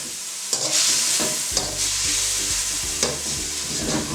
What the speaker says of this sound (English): So we mix in our paprika.